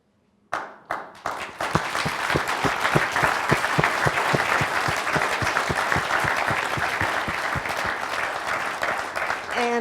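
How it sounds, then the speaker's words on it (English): An audience at a talk on gay rights and the Mormon Church applauds a speaker named Greg, starting with a few scattered claps and swelling into sustained, dense clapping that holds steady to the end. "let's give Greg another round of applause."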